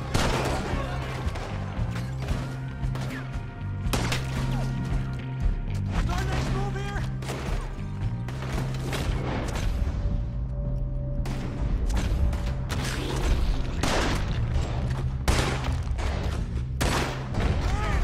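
Gunfire in Red Dead Redemption 2 cracks out in repeated bursts and volleys over a steady musical score, with shouting voices and thuds mixed throughout the scene.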